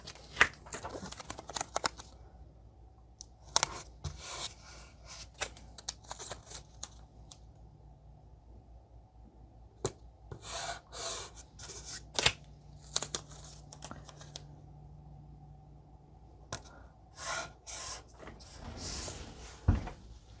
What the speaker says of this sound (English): I'm going to tape my tape to my board